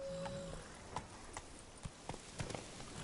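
Roach, a horse in The Witcher 3, clip-clops with hooves striking in an uneven rhythm of separate, fairly close thuds, faint under a steady low game ambience.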